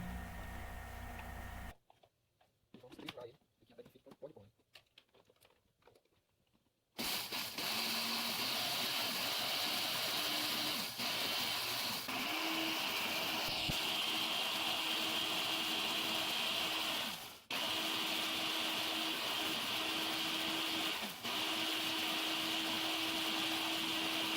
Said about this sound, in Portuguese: O primeiro passo é adicionar o pólen no liquidificador e triturar até que ele fique como um pó.